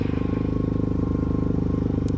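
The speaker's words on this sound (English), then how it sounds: "show you guys what it sounds like, how it drives, and hopefully y'all can hear me over the exhaust" Exhaust of a Honda 420 ATV being ridden, a loud, close, steady engine drone with a rapid rhythmic pulsing that holds constant throughout.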